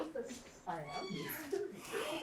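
A kitten at a rescue meows several times in short, high, wavering cries while someone speaks close by.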